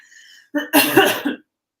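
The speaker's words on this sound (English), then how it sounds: "Excuse me, I'm just going to cough." A single close, harsh cough in a couple of bursts, following a faint voice, then silence.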